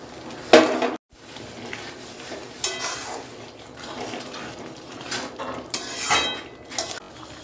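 Sliced green chillies go into a pan of simmering ghugni, with clattering pot and utensil knocks and scraping stirs, a sharp clank near the start and a brief silence after it.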